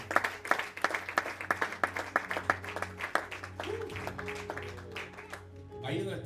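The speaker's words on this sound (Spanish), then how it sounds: "Da un aplauso al Espíritu Santo." Church congregation clapping in rhythmic, repeated claps for the Holy Spirit during a service, with music playing underneath; the clapping thins out toward the end as a voice speaks.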